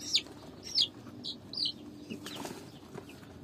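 Young chickens give a few short high peeping calls, close and distinct, followed by soft rustling and shuffling from the birds, with no talking.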